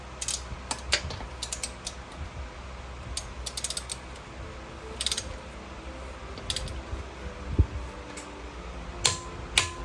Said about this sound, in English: I set my torque wrench for 95 foot-pound.